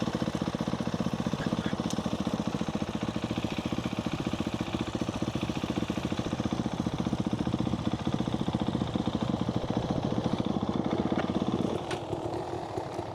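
A motorcycle engine running steadily at low revs off-road on a rough Welsh green lane, a continuous throbbing drone close by that eases slightly near the end.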